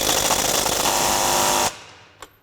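A Craftsman V20 RP brushless 1/2-inch drive impact wrench on a 6 amp-hour battery hammers a bolt tight in one loud, dense burst of about 1.7 seconds, then stops abruptly, followed by a faint click.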